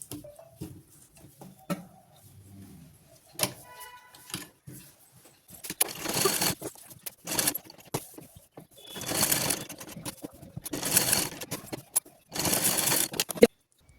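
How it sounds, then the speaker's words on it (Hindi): A sewing machine puts point stitching on a short kurta in stop-start bursts of rattling runs, separated by quiet gaps and small handling clicks, fairly close with no voices. "फिर हम इसमें पॉइंट की सिलाई लगा लेंगे"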